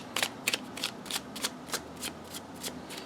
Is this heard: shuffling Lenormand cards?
yes